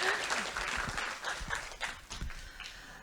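Applause from the audience at a panel discussion on AI and animal advocacy: a broad, busy spread of many hands clapping at a moderate level, with a few sharper low thumps and faint murmuring mixed in.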